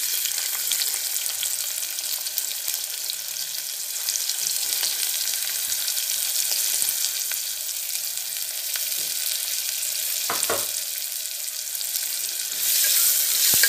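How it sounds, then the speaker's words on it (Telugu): Onions sizzling and frying in hot oil for a mutton curry, a steady loud hiss throughout with a few faint clinks of stirring and no talking. "ఆయిల్ వేడెక్కింది కదండి, ఇప్పుడు ఉల్లిపాయలు వేసేద్దాం"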